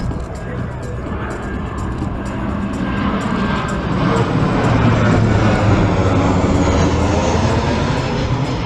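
At an air show, a Boeing 737 maritime patrol aircraft with two turbofan engines passes with a broad, swelling jet roar that grows louder and stays steady, under a commentator speaking over a public address.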